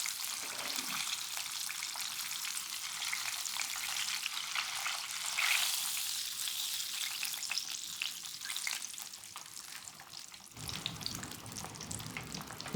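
Okra frying in hot oil in a pan for a soul food dish, a steady loud sizzle that runs unbroken, with a brief stir or splash partway through and a slight drop near the end.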